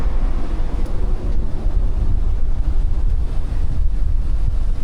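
Steady, loud wind buffeting the microphone at Coco Beach in Playa del Carmen, a constant low roar with surf underneath and no voices.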